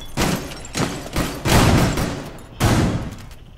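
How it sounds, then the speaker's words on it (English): Shotgun fire in the video game Rainbow Six Siege, several loud close blasts spaced irregularly across the moment, each a sharp broadband boom with a short decaying tail. "I don't think you shooting shotguns loudly is gonna make him wanna come more."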